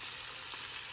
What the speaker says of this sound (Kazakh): Жай отта қуырасыздар, екі шетін асықпай пісіріп аласыздар